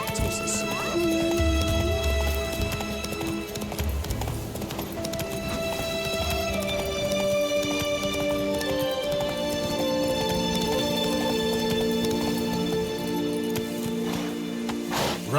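Roach the horse galloping in The Witcher 3: Wild Hunt, steady rhythmic hoofbeats drumming close by with a brief whinny, under a sustained musical score.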